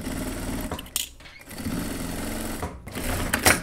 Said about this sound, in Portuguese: eu vou fazer essa costura reta pra deixar a gola já fixa aqui no lugar